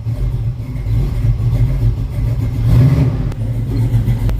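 A carbureted car engine with a Holley carburetor running rich on a cold start, loud and close, idling with a rough low rumble and a couple of revs rising and falling, no speech.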